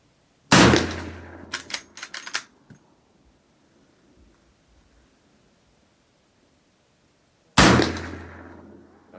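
A Marlin 94 lever-action rifle in .357 Magnum fires loud, sharp shots outdoors at long range, with a blast near the start and another near the end, and a few brief mechanical clacks between them.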